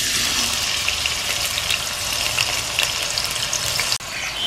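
Steady, dense sizzling of chopped onions frying in hot oil, continuous and close, with a brief dip near the end.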